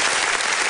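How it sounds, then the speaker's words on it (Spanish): Loud, dense applause from a gathered audience at a Christian praise and Bible show, many hands clapping at once in a brief, unbroken burst. "Fuerte el aplauso para Gabriela"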